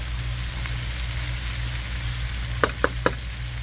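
Green onions hit a hot wok of beef and broccoli, giving a steady close-up sizzle. Three sharp clinks from a utensil come near the end.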